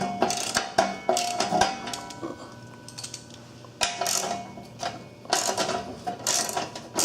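A ratchet with a 1/2-inch socket turning heat shield bolts on an MTD riding mower, close metallic clicking in short uneven bursts with clinks and pauses between strokes.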